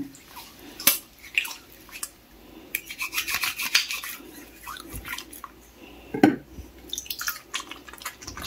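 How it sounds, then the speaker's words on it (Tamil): Washing by hand with a homemade natural sandalwood soap containing wax and water, giving soft wet rubbing and lathering sounds with occasional drips and splashes, fairly quiet and close, with no talking. "இப்போ நான் வந்து உங்களுக்கு கழுவி காமிக்கிறேன், எவ்வளோ நுர வருதுன்னு பாருங்க."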